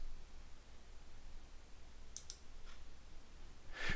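A few faint, sharp computer mouse clicks, spaced irregularly and a pair close together, during work in Civil 3D software over a quiet, hissy room background.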